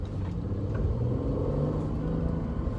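A 2013 Mercedes C350 pulls out and accelerates gently, giving a steady low engine rumble and road noise heard from inside the cabin, continuous and moderately quiet.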